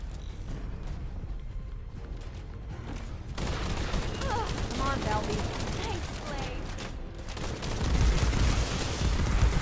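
Gunfire from the video game The First Descendant, aimed at an enemy weak point: dense, continuous bursts of shots that grow louder partway through and swell again near the end, with the firing sustained throughout.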